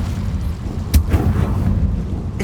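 A fire spell cast in Hogwarts Legacy, a single sharp whooshing burst near the middle of a low rumbling game soundscape, followed by a few softer crackles.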